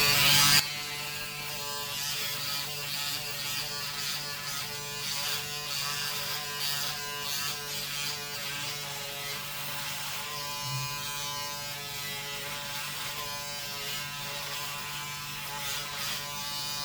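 Braun Series 5 electric shaver running in standard mode, a steady close buzzing hum with harmonic whine that holds constant throughout, no talking.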